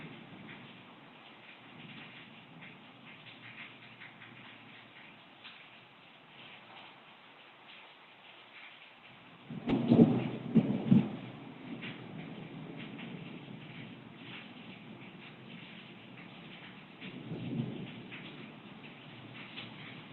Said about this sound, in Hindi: बारिश तेज हो रही है और गरजना भी ज़्यादा हो रही है